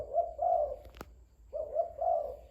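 A spotted dove coos twice in soft, low, rolling phrases, with a brief quiet gap between them, fairly close and alone.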